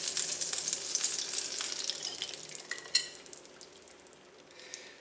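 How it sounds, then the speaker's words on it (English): Eggs frying in melted butter in a pan, a steady bright sizzle that is loudest at the start and slowly eases, with a few light clicks and one sharp tap near the middle. "I've melted 2 tablespoons of butter in the pan. And then I'm going to add the eggs."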